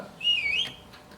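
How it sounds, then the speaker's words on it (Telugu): A short whistle alert from an Android help app: a single rising-and-falling electronic whistle, lasting about half a second, fairly faint against a quiet background. "ఒక విజిల్ సింబల్ అనేది వినపడేసి"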